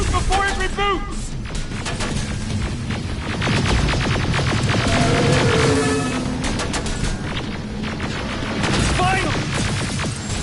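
Rapid bursts of gunfire in the Terminator Resistance video game, loud and dense, with booming impacts and mechanical throbbing through a chaotic firefight, with game voices shouting over it.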